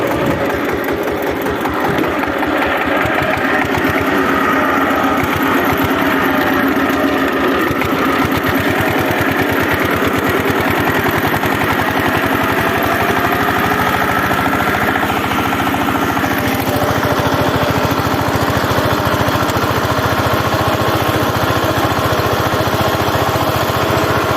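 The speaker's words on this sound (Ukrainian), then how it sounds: "Борона сіла, ще не взяла, трактор зарився." A Lider 220D tractor engine labours loudly and continuously while pulling a disc harrow, with a steady droning roar close by.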